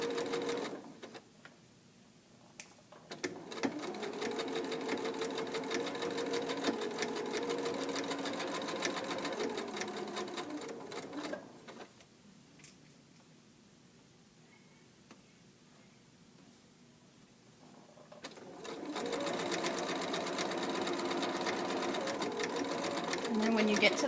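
Close, steady whirring of a sewing machine stitching the side seams of shorts, running in two long bursts separated by a quiet pause, with faint background hiss.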